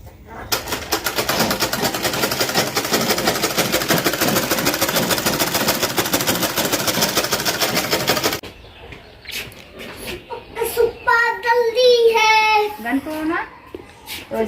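A sewing machine stitching cloth runs loud and steady for about eight seconds, a dense continuous mechanical whir, then stops, leaving a voice and other talk in the room.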